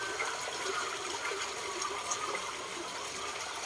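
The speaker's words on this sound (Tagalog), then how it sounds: "Ito ang agusan ng ating tubig. Patanggalan na natin siya ng tubig para madali nang hulihin ang mga isda." Water drains out of a biofloc catfish pond at harvest time, a steady rushing, gurgling flow that runs on evenly with no one talking.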